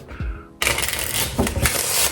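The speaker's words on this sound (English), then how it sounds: "Now the deck is started off by having it shuffled." A deck of playing cards is shuffled close up, a dense riffling burst of rapid papery flutters and clicks that runs steadily for about a second and a half after a short muffled rustle.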